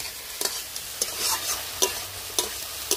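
A spatula stirs banana flower and potato in a frying pan with salt and turmeric, village-style cooking: a soft continuous sizzle broken by about six sharp scraping strokes at a fairly regular pace, close and fairly quiet.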